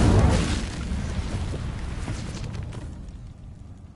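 A fire spell cast in Hogwarts Legacy bursts out as a loud, low roaring whoosh that swells at once, then rumbles and crackles steadily before fading over a few seconds, with no talk.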